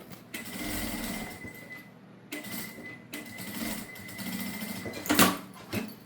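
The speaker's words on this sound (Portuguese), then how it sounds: "eu vou fazer uma costurinha aqui só pra segurar e ficar mais fácil de finalizar" A sewing machine stitching fabric to close a rosary holder, close rapid mechanical whirring in three runs broken by short pauses, ending with a sharp click and a few handling knocks.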